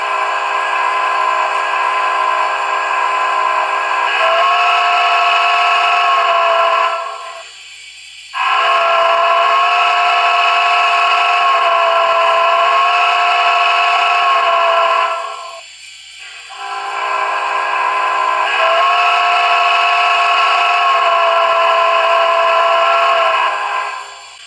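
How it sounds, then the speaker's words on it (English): A PRR G5s steam locomotive whistle from a video game blows three long, loud chime blasts separated by short gaps, steady and harmonically rich, with nothing else heard. "This is the playable whistle sound."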